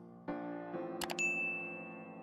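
A notification bell sound effect rings out in a quick pair of bright dings, then one clear tone that hangs and slowly fades over a soft background.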